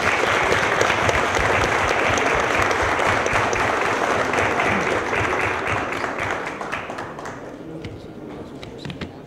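Audience applauding after a talk at an event on masculinities and personal data online, dense sustained clapping that stays loud for most of the stretch, then thins and fades toward the end.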